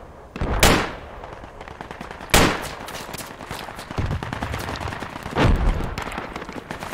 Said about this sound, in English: Gotta shoot these guys first.